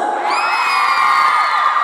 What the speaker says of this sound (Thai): ขอเสียงกรี๊ดเลย